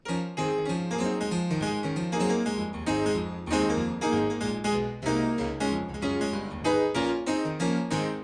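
An out-of-tune piano plays a busy passage, with chords and melody running continuously, slightly sour and jangly, recorded close with no voices.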